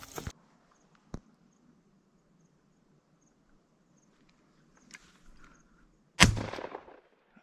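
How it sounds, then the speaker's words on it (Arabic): A shotgun fires while hunting birds outdoors at dusk, a single sharp close blast near the end that follows a quiet stretch of faint ambience and a couple of small clicks. "بقت طلقة واحدة، خلينا نشوف شو طيح بيها."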